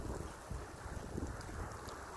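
Strong wind buffets and roars across the microphone, a steady rushing noise with gusty thumps, no voices.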